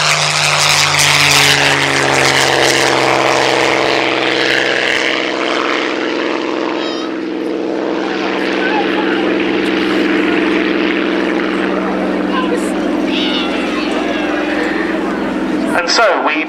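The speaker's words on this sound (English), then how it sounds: "Begin our D-Day salute with a photographic reconnaissance sortie from a PR Spitfire" A Supermarine PR Spitfire propeller aircraft flying a D-Day commemoration display at the Shoreham Airshow, its engine droning loud and steady with a strong low hum, while a commentator talks over it throughout.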